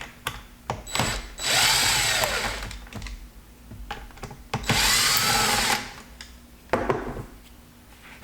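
Power drill backs screws out of the steering wheel backing on a Supra, whirring in two sustained bursts between short taps and brief tool noises, close and loud.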